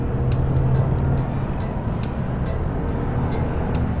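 Road traffic on a congested route between Malolos and Sulipan, Apalit, Pampanga, a steady close engine drone with vehicles passing and brief rattling hiss bursts, no talking.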